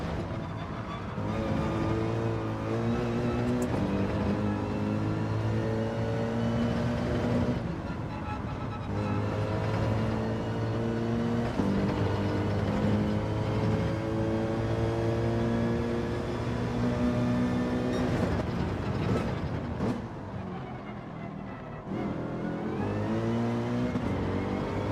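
A Mercedes race car engine drives in the video game Gran Turismo 7, loud and continuous, revving up through the gears with repeated rising pitch sweeps and brief drops at each shift, close and steady throughout.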